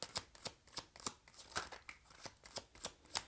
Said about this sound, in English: Let's do a better shuffle.